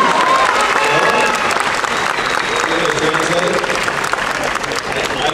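Loud, close audience applause at a comics convention in Lima, a dense sustained roar of clapping with crowd voices mixed in.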